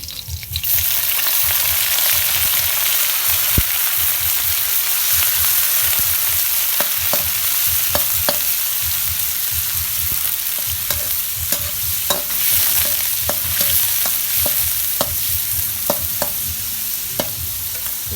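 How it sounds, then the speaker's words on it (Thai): Garlic and shrimp fry in hot oil in a wok for shrimp fried rice, a constant loud sizzle broken by repeated scraping stirs and sharp clacks of a spatula against metal, close up with no speech. "อันนี้น้ำมันร้อนดีแล้วนะจ๊ะพี่ด้ก็ใส่กระเทียมซะ แล้วก็ใส่กุ้งลงไปเลย"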